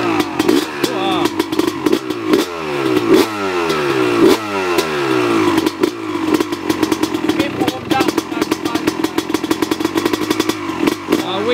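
A 2002 Honda CR250 two-stroke motocross bike, a factory edition, is kick-started and then revved loudly nearby. Its engine rises and falls in sharp, rapid blips, and voices are heard briefly over it.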